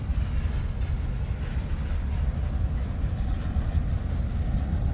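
A freight train with a distant power unit rolls slowly along the tracks in winter, making a steady low rumble and faint rail noise from moderately near with no voices.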